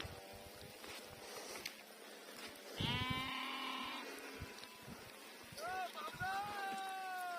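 A flock of sheep grazes on a highland pasture in heavy rain, with several loud bleats near and far over a steady hiss of rainfall, and a voice talking in the background.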